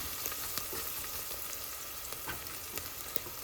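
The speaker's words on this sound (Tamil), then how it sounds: "நமக்கு வெங்காயம், இஞ்சி பூண்டு விழுது எல்லாம் சேர்ந்து வதங்கிட்டு இருக்குங்க" Steady sizzling of onion and ginger-garlic paste frying in a pan, with occasional soft clicks and stirring taps, no voices.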